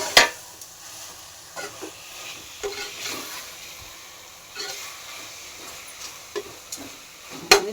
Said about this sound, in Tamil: இது எல்லாம் ஒன்றா சேர்ந்து நல்லா வதங்கும்.